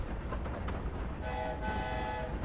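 Train rolling past in the video game Hogwarts Legacy, a steady dense rumble with a sustained horn-like tone joining midway, loud and continuous throughout with no talking.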